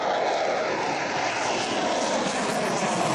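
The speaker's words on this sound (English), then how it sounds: "And even more planes." Airplane engines drone steadily and loudly at Council Bluffs Airport during a flight and aircraft maintenance camp, a continuous broadband roar with no speech over it.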